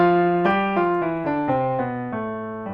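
Keyboard playing a slow descending scale on G using only white keys, eight clear sustained notes stepping downward one after another, alone and close with no talk.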